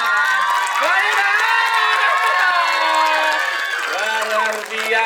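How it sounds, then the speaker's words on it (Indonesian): A seated audience at a film screening claps and cheers loudly for the movie's lead actress, with whoops and shouting voices layered over continuous applause. "kami kasih tepuk tangan kepada pemeran utama dari film yang barusan kita saksikan. Maira,"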